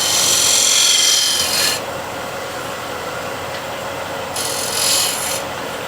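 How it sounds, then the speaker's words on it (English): A spindle gouge cuts a bead on wood spinning on a lathe: loud, hissing rasp in bursts of a second or two, separated by a duller, steady hum, with a second cutting pass near the end. "Here is a spindle gouge, and I just want to make a little bead here."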